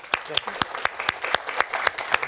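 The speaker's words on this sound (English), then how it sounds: "And one last applause for you" Audience at a university inaugural lecture clapping, a loud burst of sharp, irregular claps from a modest crowd, steady throughout with no voices.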